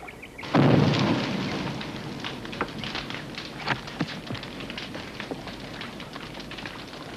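Film storm effect of rain and wind: a sudden loud rumbling burst like thunder fades into a steady hiss of rain with scattered crackling pops, and no one speaks over it.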